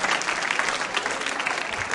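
A school audience at a quiz show breaks into loud, energetic applause for a contestant's correct answer. The thick, continuous clapping of many hands fills about two seconds.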